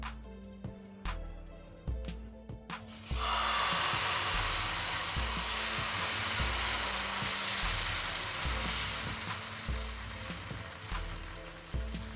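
Spinach batter sizzles on a hot oiled tawa, bursting into a loud, steady frying hiss after a few seconds. Faint rhythmic tapping or background music runs underneath.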